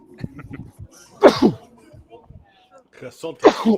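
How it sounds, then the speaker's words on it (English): A sharp sneeze erupts amid people talking nearby, followed by another loud burst a couple of seconds later. "I got to sneeze."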